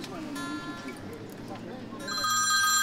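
A telephone rings after a number is dialed, a repeated electronic ringing tone that grows louder toward the end, following a stretch of low background noise.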